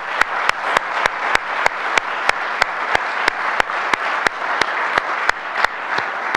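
Steady audience applause fills the room in thanks to the Silers at the 70th Siler keynote, a dense wash of many hands clapping evenly throughout with no talk over it.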